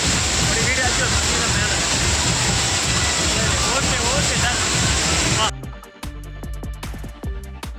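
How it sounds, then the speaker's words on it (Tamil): Niagara Falls thunders in a loud, close, steady roar of falling water for about five seconds, then cuts off abruptly and music takes over. "ஃபால்ஸு சவுண்டு பாருங்கள், நல்லா கேட்கும்."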